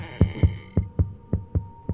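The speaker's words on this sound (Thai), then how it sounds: "ทำไมหัวใจเต้นอ่ะ" Heartbeat sound effect from the horror video game Palmyra Orphanage: a steady, low thumping pulse, about seven beats in two seconds, close and alone over a faint hum.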